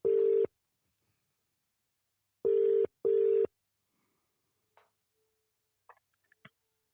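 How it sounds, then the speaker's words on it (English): A telephone rings three times, each a loud electronic tone lasting about half a second, the first alone and the last two close together, followed by silence and a few faint clicks. "Why did it take you so long to answer the phone?"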